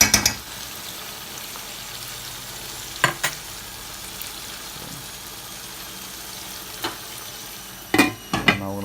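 Lamb chop curry sizzles steadily in a pot while a spoon stirs it, with several sharp clinks and scrapes of the utensil against the metal.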